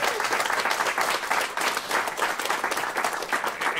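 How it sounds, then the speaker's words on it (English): Sustained, even applause from an audience saluting election workers, dense clapping at steady loudness throughout with no pauses. "So I'd love to have a round of applause for all those folks out there doing that work."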